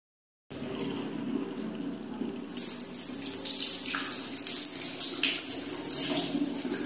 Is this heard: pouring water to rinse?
yes